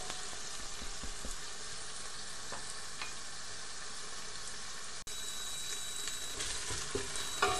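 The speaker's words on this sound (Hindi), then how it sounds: "इसको थोड़ा सा हम भुनेंगे ताकि अदरक और लहसुन का कच्चापन खत्म हो जाए।" Ginger, garlic and onion fry in a pan as the base for rajma curry, giving a continuous close sizzle with scattered crackles and a brief break partway through.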